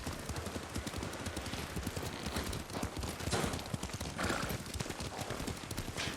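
Horse hooves clip-clop in a steady galloping rhythm as riders travel in the Ghost of Tsushima video game, fairly quiet with a continuous wash of ambient noise around them.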